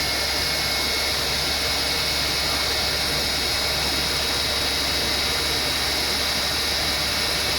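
Nissan car engine revved while its R134a air conditioning system is checked: a steady, loud, dense roar with a constant hiss and hum throughout, close by and unbroken, no voices.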